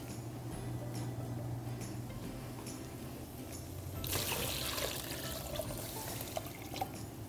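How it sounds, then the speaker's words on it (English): Water is poured into a pot of tomatoes and beans for a kale dish, giving a steady trickling, splashing flow that swells louder about halfway through, with no talk. "Now as that's in, we're gonna go ahead and add our water."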